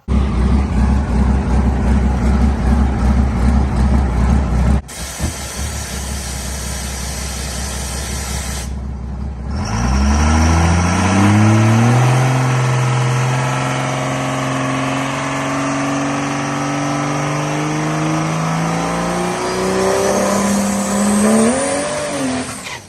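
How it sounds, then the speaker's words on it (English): A truck doing a burnout in the burnout box at the Fossil Races drag event at Beech Bend in Bowling Green roars loudly and steadily, tires spinning, then the engine revs climb and settle into a sustained high whine. "Go up there, go through the burnout box. We do a good burnout."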